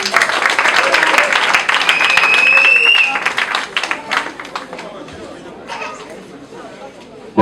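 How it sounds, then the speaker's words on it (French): Wedding guests applauding the couple at an official civil marriage ceremony, steady clapping mixed with crowd chatter and a few voices, tapering off toward the end. "Applaudissez pour nous, s'il vous plaît."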